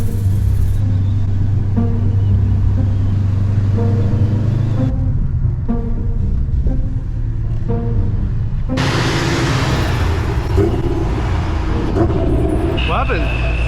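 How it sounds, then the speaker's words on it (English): A car engine that seems to be misfiring runs with a steady, loud, close rumble while people talk over it inside the vehicle. "It sounded like it was misfiring."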